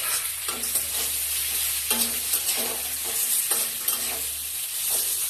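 Vegetables for Bengali shukto stir and fry in a pan, with a steady close sizzle and repeated scraping strokes of a spatula, no voices.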